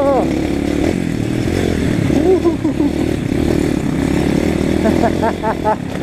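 An Apollo RFZ dirt bike accelerates on a rocky enduro trail, its loud engine droning and rising in revs with clatter over stones, while voices talk over it.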